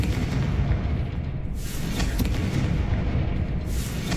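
In the video game Hogwarts Legacy, the Confringo explosion spell produces loud, dense blasts and rumbling booms that run nearly continuously, with a sharper burst partway through.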